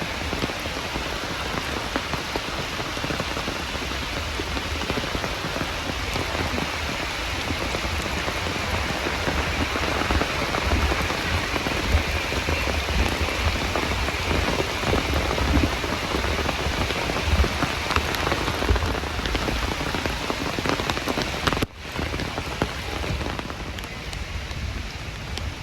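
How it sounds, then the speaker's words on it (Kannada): Heavy monsoon rain near Magod Falls in Malnad falls without pause, a loud, dense, close hiss of drops drumming on surfaces, broken only by a brief gap near the end. "ಸಿಕ್ಕಾಪಟ್ಟೆ ಮಳೆ ಬರ್ತಾ ಇದೆ."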